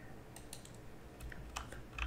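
Keys clacking on a Corsair computer keyboard, a few scattered quiet taps with brief pauses, somewhat distant and faint against a low background hum.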